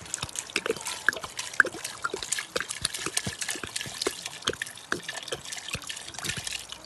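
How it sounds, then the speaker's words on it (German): Water pours into a pot of potatoes being cooked for caldo verde, making irregular splashes, drips and trickles close by at moderate loudness. "jetzt fülle ich das Ganze hier mit Wasser auf"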